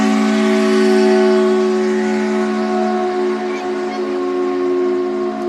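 A passing train sounds a loud, sustained horn right up close, its steady tonal blare holding for several seconds with little change.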